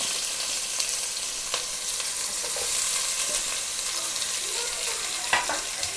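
Onions fry in a pan for a Kerala-style kappa biriyani, making a steady, even sizzling hiss with a few faint stirring taps, close by and fairly consistent.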